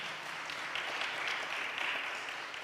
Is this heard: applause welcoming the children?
yes